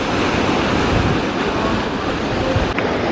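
Ocean waves break and wash steadily along the Jeju coast at night, a loud, dense roar of surf mixed with wind noise on the microphone, continuous with no speech.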